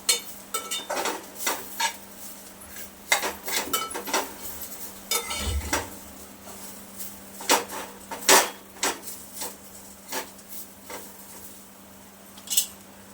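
Onion and dry coconut being roasted in a pan for chicken gravy masala: a spoon repeatedly clinks and scrapes against metal in irregular bursts, close and fairly quiet, with little sizzle beneath.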